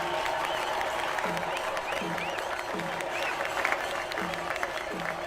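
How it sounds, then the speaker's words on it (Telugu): Audience clapping at a live game competition, a steady dense wash of applause with crowd noise and voices mixed in, while an amplified announcer keeps talking over it. "బాగా చప్పట్లు కొట్టండి"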